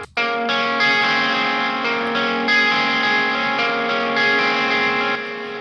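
An electric guitar plays a sustained, heavily distorted chord drenched in delay and reverb, one loud held wall of sound that rings on before slightly dropping in level near the end, for a mix.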